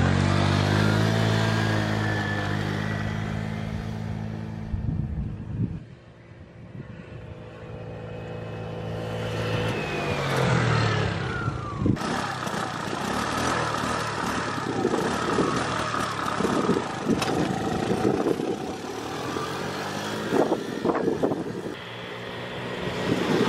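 A Zip scooter with a Tecnigas exhaust idles and revs unevenly. The loud, uneven engine note dips and surges, drops off briefly around the middle, then comes back with rough, sputtering bursts and wind buffeting the microphone.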